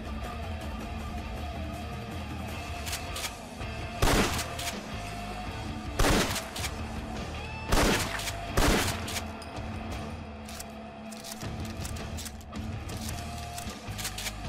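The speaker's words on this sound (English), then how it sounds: "The next shotgun is a bit more generic, the famous Remington 870." Remington 870 shotgun fired in Fallout 4, several loud, sharp blasts spaced a second or two apart over a steady background hum.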